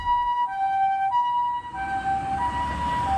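A Japanese ambulance siren sounds in busy city traffic, a clean two-note wail alternating steadily and fairly close, over a low rumble of passing vehicles.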